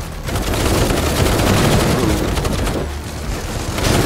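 Grenades explode in rapid succession in the game M.E.R.C. Dense, loud blasts and crackling run continuously for several seconds, like a barrage of bursts.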